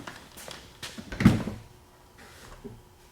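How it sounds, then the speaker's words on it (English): A scissor-style car door on a Toyota Supra project car swings open with a mechanical creak and a solid thunk midway, followed by quieter handling noises and faint rattles. "It's like the most sketchy Lambo door ever"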